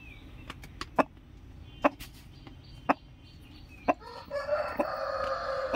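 A large, heavy 5 kg native chicken gives a few sharp separate clicks and taps, then breaks into a run of loud, close clucking calls near the end.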